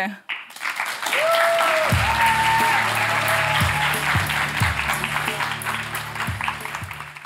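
An audience applauds to welcome a guest, a nurse practitioner, in a steady, dense clapping wash that follows a brief tonal sound and runs under sustained music tones, with speech faint in the background.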